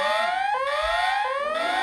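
A loud EAS emergency alert alarm sweeps repeatedly upward in pitch, each rising tone snapping back and climbing again in a steady, piercing cycle, heard alone.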